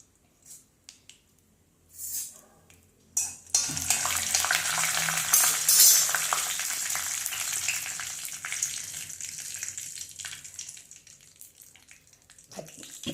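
A few clinks and clatters, then a sudden burst of loud, crackling sizzle as mustard seeds and urad dal fry in hot oil in a pan, fading gradually toward the end.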